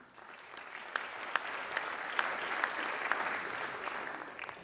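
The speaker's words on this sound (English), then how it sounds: "I think that our sovereign donors deserve the applause" An audience at the One Health Summit in Lyon claps for sovereign donors: a soft, even patter of many hands with scattered sharper claps standing out, heard from a distance and without speech.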